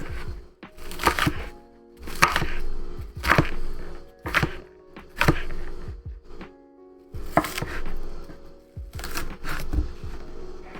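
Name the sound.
chopping onion with a kitchen knife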